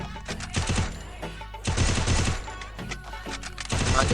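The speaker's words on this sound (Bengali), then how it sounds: "এখানে দেখো একদম জিরো রিকয়েলে আমি হেডশটগুলো মারছি" Rapid sniper gunfire from headshots in the shooter game Free Fire, several loud bursts of shots in quick succession with short pauses between them, close and punchy with no voices.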